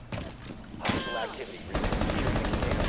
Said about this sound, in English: Why are you shooting at a dead body?